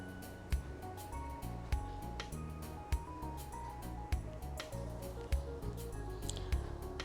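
Fabric scissors snip along a paper bodice pattern in a regular series of short, crisp cuts about a second apart, faint and close, over a soft background hum.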